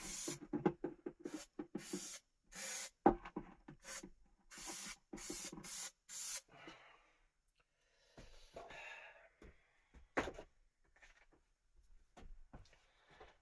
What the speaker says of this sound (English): Give the back of that a good spray.